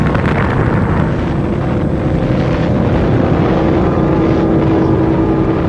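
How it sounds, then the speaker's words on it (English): The first atomic bomb detonation, a roughly 20,000-ton TNT-equivalent blast, heard as a sustained, loud, low roaring rumble that churns steadily without letup, dense and thunderous throughout. "the first atomic bomb was detonated"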